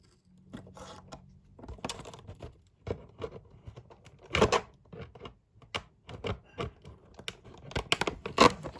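Toy packaging being pried at, with scattered close crinkles, taps and tearing plastic clicks in irregular bursts.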